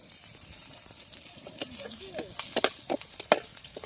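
Green chillies and curry leaves frying in a pan, a steady sizzle broken by scraping stirs and sharper crackles toward the end.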